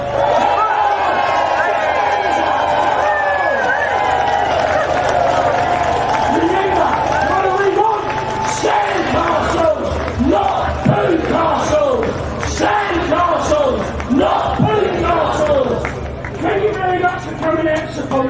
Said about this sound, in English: Please give yourselves a massive cheer and round of applause